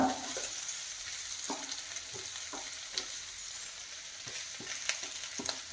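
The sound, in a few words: eggs sizzling in masala for Kerala egg roast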